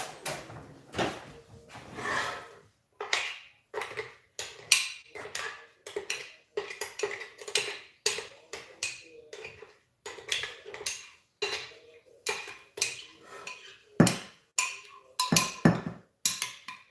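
A spoon scoops and clinks against a bowl while otah otah is being prepared, giving a string of irregular, close, sharp scraping and tapping sounds separated by short pauses.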